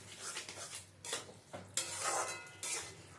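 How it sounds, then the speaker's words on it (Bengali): Squash curry is stirred in a pan, giving close scraping and clinking of a utensil against metal in uneven strokes with faint sizzling underneath, no talking. "ভালো করে নেড়ে ছেড়ে নিতে হবে।"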